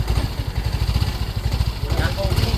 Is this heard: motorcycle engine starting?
yes